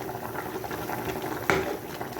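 A pot of water rolling at a boil while fish cooks in it, a dense, close bubbling churn that runs continuously, with a single sharp clink partway through.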